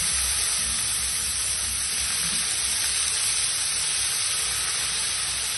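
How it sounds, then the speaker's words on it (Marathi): Chopped ridge gourd and chillies frying in a hot pan for a chutney, giving a loud, continuous, even hiss of sizzling oil that holds steady throughout, with no voices. "हे फ्राय करून घ्यायचं आपण दोडका"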